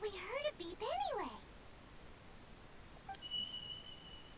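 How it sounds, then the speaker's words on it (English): A single short electronic beep from an Akasha terminal in the video game Genshin Impact sounds softly and briefly, then holds as a thin steady tone, following a stretch of sweeping, melodic game voice sounds. "There was definitely a beep, but it sounded like it was coming from inside my head."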